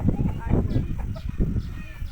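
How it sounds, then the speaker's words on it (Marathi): Village free-range chickens and a rooster cluck in a farmyard, low choppy calls mixed with people talking nearby. "एकटाच कोंबडा काय करतो हा"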